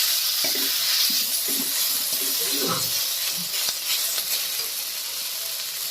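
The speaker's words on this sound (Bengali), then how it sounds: "ভালো করে একটু নাড়িয়ে দেব।" Fenugreek greens with potato and eggplant are stirred in a pan, giving a soft steady sizzle and hiss with a few faint scrapes, close and quiet.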